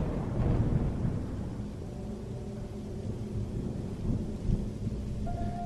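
Heavy November rainstorm with steady dense rainfall and low rolling thunder rumbling underneath, continuous and fairly loud with no voices.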